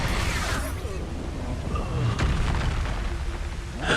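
Expulso spell blasts in Hogwarts Legacy, booming explosions with rumbling debris, a sharp burst at the start and another at the very end, with rolling low rumble between.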